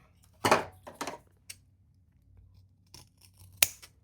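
Scissors snip through material for a custom white Croc shoe in a quiet room: several sharp, crisp cuts, a close pair of quick snips, then isolated clicks and a final strong snap, with no talk.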